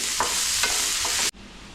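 Onions with salt sizzle loudly in a hot pan, with a few scraping stirs, before the frying noise cuts off abruptly near the end.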